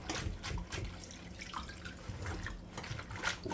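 Callaloo leaves are shaken about in a bowl of salt water, giving a faint, steady splashing and sloshing with a few brighter drips, close by and without talk.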